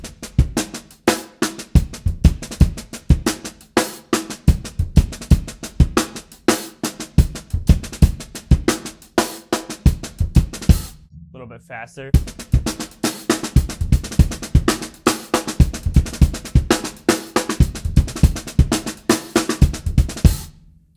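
A drum kit plays a busy groove packed with snare ghost notes between heavier backbeats, loud and close, with a brief gap near the middle before the groove resumes.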